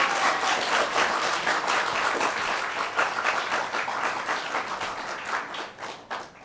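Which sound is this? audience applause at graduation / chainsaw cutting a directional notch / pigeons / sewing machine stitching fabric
audience applause at graduation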